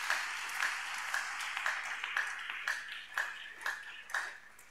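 A church congregation claps together in a steady, even rhythm, about two claps per second, with a loud, reverberant group sound and no talking over it.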